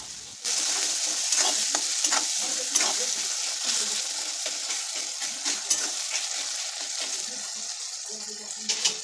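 Tomatoes with salt stirred in a frying pan for a cauliflower curry, a continuous close sizzle broken by repeated scraping strokes of the spoon against the pan.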